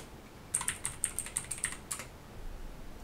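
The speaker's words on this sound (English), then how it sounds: "Basically just type here" Quick bursts of keystrokes on a computer keyboard, about a dozen crisp clicks in a fast uneven run, close and clear, then quiet.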